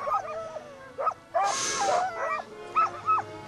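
Sled dogs in the Arctic bark, yip and whimper in short excited bursts, close by, with a brief breathy rush in the middle and no talk.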